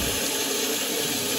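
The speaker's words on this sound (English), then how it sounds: "reopen, allow the water fill back up the system" Water rushes steadily and loudly into an unvented hot water cylinder system as it refills after a relief valve repair, a constant hiss with no pauses over the brief stretch.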